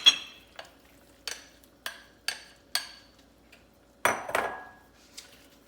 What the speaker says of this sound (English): It's time to add the white beans and my Swiss chard.